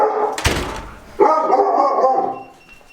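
A sharp thump, then a puppy lets out a drawn-out whining bark that trails off, close by in a garage with no talking.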